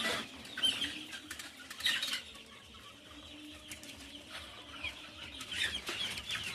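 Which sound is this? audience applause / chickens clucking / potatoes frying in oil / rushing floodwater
chickens clucking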